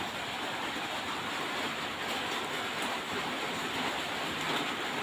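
Rain pours outside a house in a dense, even hiss that holds steady and fairly loud throughout, with no voices.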